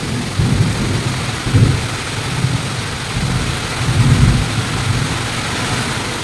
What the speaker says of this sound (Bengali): ভীষণ জোরে জোরে বজ্রপাত পড়ছে